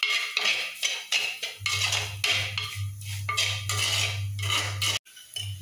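A spoon stirs Kashmiri chili powder into lemon pickle, scraping and clinking against the vessel in quick, close, repeated strokes over a low, steady hum.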